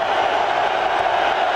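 Steady roar of a college football stadium crowd cheering, a dense continuous wall of voices at constant loudness with no single voice standing out.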